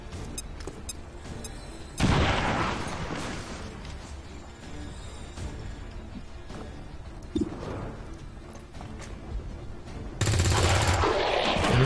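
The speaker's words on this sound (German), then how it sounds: "Werfe Granate!" Gunfire and a grenade in the tactical video game XCOM 2: sharp bursts of shots and booming impacts arrive in loud clusters, with a heavy blast near the start and another loud burst near the end over a rumbling background.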